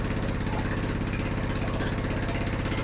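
An engine runs loudly and steadily up close with a fast, even throbbing pulse and no letup or voices.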